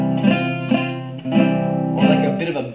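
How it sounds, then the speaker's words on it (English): A beginner's guitar chord buzzing from poorly placed fingers, strummed several times in a loose rhythm, each strum ringing with a rough edge, close and fairly loud. "a bit of a buzzing sound"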